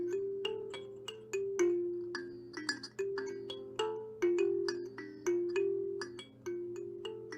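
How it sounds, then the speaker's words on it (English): A kalimba plucks a gentle pentatonic melody, with a steady run of bright, bell-like notes that each ring briefly and overlap slightly, played alone and close up. "It's a kalimba, and it sounds like this."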